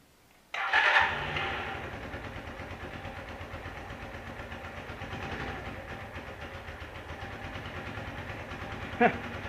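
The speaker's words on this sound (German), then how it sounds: "jetzt testen wir einmal, ob wir den Roller auch starten können" A restored Puch Lido scooter's small engine fires up suddenly and settles into a steady close idle, with a brief louder burst near the end.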